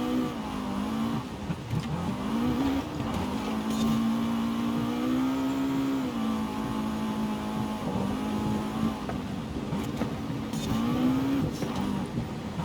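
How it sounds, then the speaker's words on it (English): Ford Escort engine in Forza Horizon 5 revving hard while drifting, a loud continuous whine rising and falling with throttle and gear, steady throughout with no break. "Clutch kick there, get that back end out, keep it in third though"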